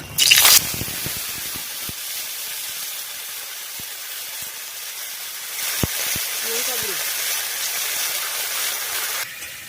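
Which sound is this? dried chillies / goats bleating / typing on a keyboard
dried chillies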